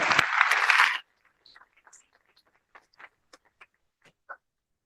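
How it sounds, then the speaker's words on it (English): An audience at a World Bank Group youth summit pitch competition applauds in a loud, brief burst that cuts off after a second, leaving a few scattered, faint claps. "a round of applause"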